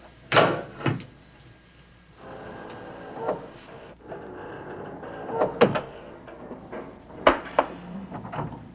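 A spring-loaded door in a 1960s police drama scene swings shut on its own, giving a couple of sharp knocks and thuds with quieter rattles and bumps scattered between them. No one speaks.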